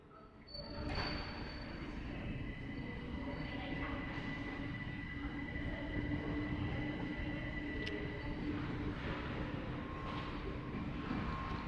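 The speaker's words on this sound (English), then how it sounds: "we get to see the Great Northern Angel departing" A Great Northern passenger train pulls out of London King's Cross on the East Coast Main Line, a steady rumble of wheels and carriages with faint squeals and station ambience throughout.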